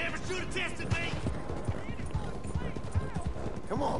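Horse hooves clip-clop at a gallop in Red Dead Redemption 2, a steady rhythmic beat close by under continuous game ambience, with someone talking over it.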